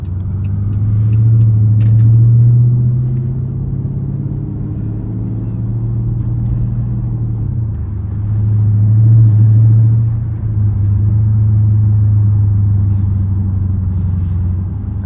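Dodge Charger SRT8 cruising down long straight roads, a heavy low engine drone heard from inside the cabin, steady and loud with gentle swells in rumble.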